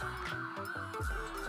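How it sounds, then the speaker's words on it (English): An emergency vehicle siren wails steadily in the distance, a continuous tone heard alone indoors without speech. "that's a siren"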